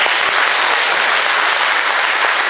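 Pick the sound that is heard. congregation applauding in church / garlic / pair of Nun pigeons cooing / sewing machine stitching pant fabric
congregation applauding in church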